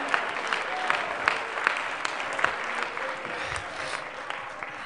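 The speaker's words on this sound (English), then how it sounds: "Can you clap your hands and praise him right now?" Congregation in a church clapping hands steadily together, a dense ongoing patter of many palms filling the space at moderate loudness.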